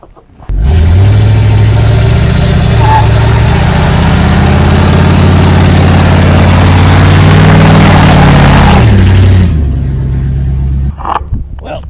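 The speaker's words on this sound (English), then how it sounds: "Well, she does burnouts." A Dodge RV engine roars at a loud, sustained high rev during a burnout, holding steady for several seconds before dropping back toward idle, close to the listener.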